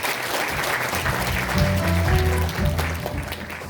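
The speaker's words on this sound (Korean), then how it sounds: "여러분 박수 부탁드립니다." Audience applause at a Korean National Assembly member's 2024 legislative report meeting in Daejeon, a dense steady wash of clapping with low tonal music underneath, fairly loud throughout.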